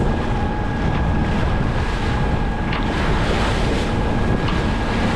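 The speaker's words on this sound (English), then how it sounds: "We are making splashes." A sailboat on a coastal passage off Cape May pushes through waves, with a continuous roar of rushing water and wind buffeting the microphone, steady and loud with no voices.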